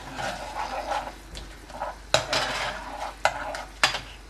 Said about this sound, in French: Vous remuez légèrement.